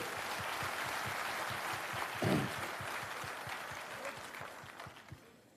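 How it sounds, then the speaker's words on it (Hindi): A crowd at a Jan Suraaj political rally in Tarapur claps in a soft, distant wash, with a low regular pulse beneath the applause and a fading tail at the end. "अपने लिए जोरदार ताली बजाइए।"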